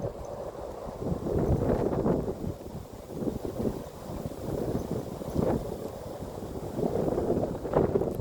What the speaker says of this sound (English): Wow, it's windy. It's a little windy.